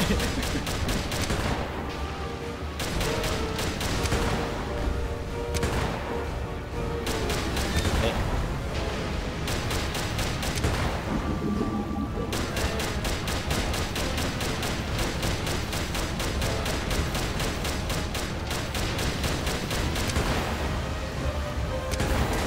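Dense, continuous battle noise: rapid gunfire bursts and heavy booming artillery over a constant rumble, loud and unbroken throughout.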